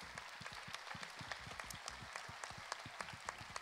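An audience claps at a band's fifteenth anniversary event, a steady, moderately faint patter of many hands with a few sharper individual claps standing out near the end.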